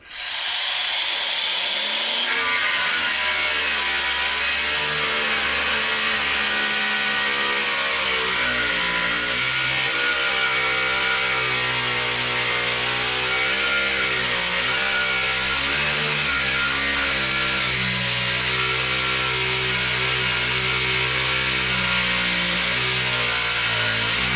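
A cordless angle grinder runs steadily and loudly for the whole stretch, its motor whine holding a dense, continuous pitch with slight wavering as it works, close to the microphone and with no talk over it.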